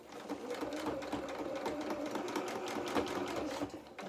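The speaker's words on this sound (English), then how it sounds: "Line up our fabric, and then we're going to then start stitching." A sewing machine stitches a fabric seam on a doll's hedgehog jacket, a quiet, steady, rapid ticking run of the needle that continues evenly from start to finish.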